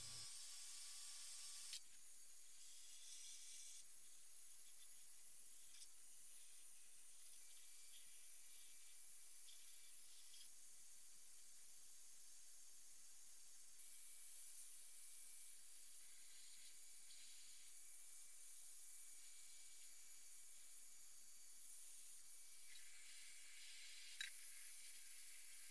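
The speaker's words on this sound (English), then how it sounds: "I'm using the heat gun to speed things up and make sure no moisture is left before blasting" A heat gun blows hot air to dry small toolbox parts, a steady high airy hiss running on without a break, faint and unchanging, with a slight shift in tone early on.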